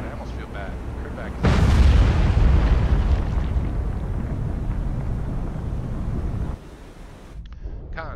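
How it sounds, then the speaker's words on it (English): Torpedo strikes a surface warship in the submarine game Cold Waters: a sudden loud underwater detonation that rolls and rumbles for several seconds, then cuts to quieter hull noise. "Torpedo hit."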